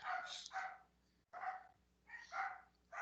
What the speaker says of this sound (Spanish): ¿ustedes escuchan a los perros?